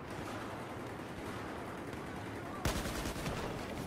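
Gunfire from the video game Battlefield 4 sounds under a noisy wash of game audio, with a sharp, loud shot near the end followed by quick rattling fire.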